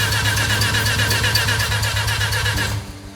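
A freshly installed Mazda RX-7 engine being cranked by its starter without catching, a loud, close, steady rhythmic churning that lasts a few seconds and then cuts off.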